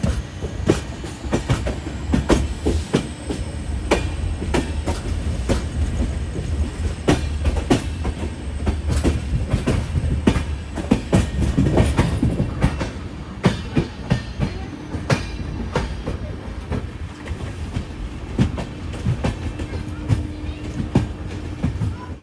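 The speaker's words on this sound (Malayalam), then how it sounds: "കാസൽ റോക്ക് ഭാഗത്തേക്ക് പോകുന്ന ഒരു ഗുഡ്സ് ട്രെയിനിന്റെ ബാങ്കർ ലോക്കോമോട്ടീവുകളാണ്." A goods train headed toward Castle Rock, pushed by banker locomotives, rolls past close by with continuous rhythmic clickety-clack of wheels over rail joints and a low rumble lasting over twenty seconds.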